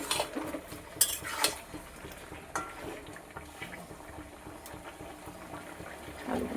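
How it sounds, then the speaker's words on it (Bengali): A utensil stirs jackfruit curry with potatoes and spices in a pan, giving soft scrapes and light metallic clinks against a quiet background with a faint simmer. "ভালো করে নাড়াচাড়া করে দিই, মশলাগুলো যাতে সবজিগুলোর মধ্যে চলে যায়।"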